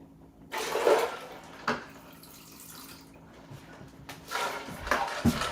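Tap water runs from a kitchen faucet in a home kitchen while whoopie pies are being made, a steady splashing rush that swells and fades in bursts, with no voices.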